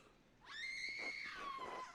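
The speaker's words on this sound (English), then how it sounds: "I don't think those screams are coming from the chapter house." Screams of people in the medieval monastery setting of the video game Pentiment, a shrill wavering cry rising after a brief quiet and holding loud for over a second before trailing off.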